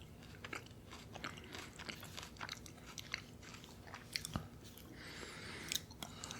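Close, quiet chewing and biting of an apricot, with soft wet crunches and mouth sounds repeating irregularly in a hushed setting.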